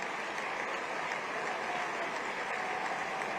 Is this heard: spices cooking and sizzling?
no